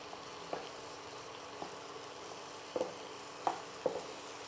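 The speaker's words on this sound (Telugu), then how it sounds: "బాగా మిక్స్ చేయాలి" Roasted brinjal chutney being mixed, a few soft, separate wet stirring thuds and scrapes at irregular intervals over a faint steady hiss, close and quiet with no voices.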